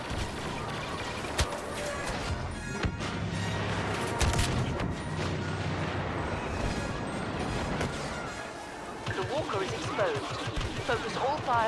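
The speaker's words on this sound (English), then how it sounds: "The walker is exploding." An AT-AT walker blows up in Star Wars Battlefront amid dense battle noise, with heavy crashing booms and impacts rolling over continuous gunfire and shouted voices.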